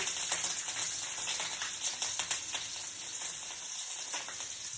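Cumin seeds and green chillies frying in hot oil in a home kitchen, giving a steady, close, dense crackling sizzle with small popping bursts throughout, and no voices.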